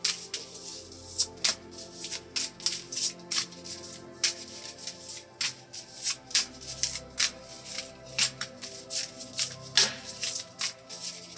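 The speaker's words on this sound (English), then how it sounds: "next we're going to shuffle this deck" A tarot deck is shuffled by hand in a series of crisp, papery riffles and bursts, steady and close, repeating throughout with no talking.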